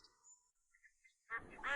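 A quiet stretch, then a few loud, harsh quacks of ducks close by near the end, with no talking.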